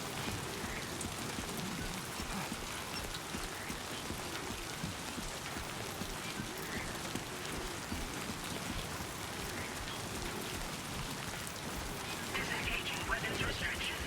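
Timefall rain pours steadily in Death Stranding 2, a dense, even patter of drops on surfaces that stays at the same level throughout, with the downpour swelling slightly near the end.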